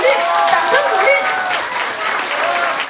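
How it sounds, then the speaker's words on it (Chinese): Audience at a visit by a singer to a gathering of children from Beijing schools for the blind and special-needs students, marking International Day of Persons with Disabilities, claps steadily and loudly throughout, a dense continuous applause with some voices mixed in. "掌声鼓励，掌声鼓励。"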